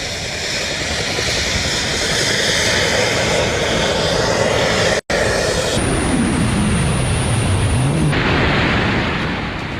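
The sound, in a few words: jet suit flying with a person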